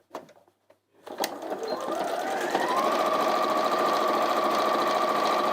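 A domestic sewing machine stitches fabric for a doorstop, starting after a few light clicks and then running as a steady, close, whirring hum that holds its pitch through to the end.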